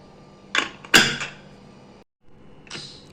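Pressure cooker holding chana dal and water, after three whistles, venting in short hissing bursts: two close loud spurts, a brief gap of near silence, then a softer final hiss.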